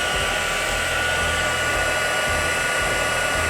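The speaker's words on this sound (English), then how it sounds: "we'll bring our heat source, which is our heat gun, over and start melting" Heat gun blowing over embossing powder on a stamped card, a steady loud whooshing roar of fan and air with a faint motor hum, constant throughout with no pauses.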